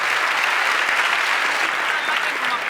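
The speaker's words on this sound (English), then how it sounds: "applause for the panel" An audience at a Stockholm University talk claps for a panel, a dense, even patter of many hands that holds steady for nearly three seconds.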